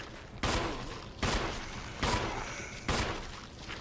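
Gunfire in the Resident Evil HD Remaster video game: four loud, evenly spaced shots boom out about a second apart, each with a long decaying tail, and no voice over them.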